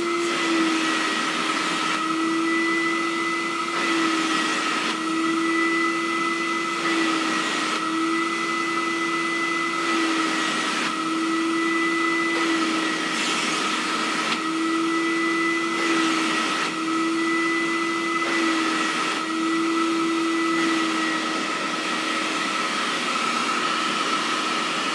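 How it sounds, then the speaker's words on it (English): A rebuilt Electra compact vacuum cleaner's original motor drones steadily and evenly for a long stretch, with a constant hum and no grinding or rattling; no one speaks. "the motor is very smooth, no grinding, no weird noise coming from the original compact motor"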